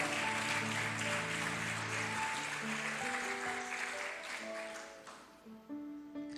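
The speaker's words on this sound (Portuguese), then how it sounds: "Pode aplaudir o Senhor com fé" A church congregation applauding during a worship service, broad clapping that carries over sustained musical tones and slowly thins out toward the end, with no talk.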